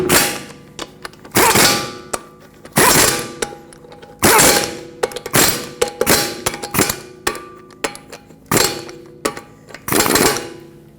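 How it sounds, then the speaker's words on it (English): A wrench ratchets and clanks in repeated bursts while lug bolts on a Fiat 500 with steel wheels are torqued, about eight sharp clicking strokes with short pauses between, close and loud. "I'm torquing this to 63 foot-pounds"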